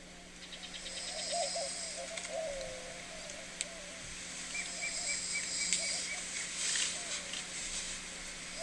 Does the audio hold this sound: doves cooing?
yes